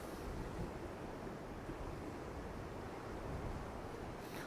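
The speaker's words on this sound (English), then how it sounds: "Wind's not getting any easier, it's got rougher if anything." Strong wind and rough surf wash against the sea wall at Hunstanton in West Norfolk as one steady, dense roar of buffeting gusts and breaking water with no pauses.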